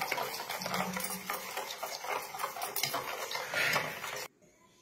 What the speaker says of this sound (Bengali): এবার ভালো করে ওগুলোকে মিশিয়ে নেব